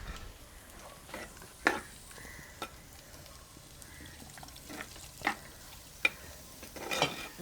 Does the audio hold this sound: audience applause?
no